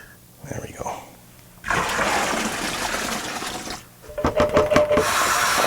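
Tap water gushes into a plastic home brew bucket for an ale kit, a loud continuous rush lasting a couple of seconds, followed by some knocks and clunks as the flow stops.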